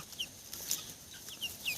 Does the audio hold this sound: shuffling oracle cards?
no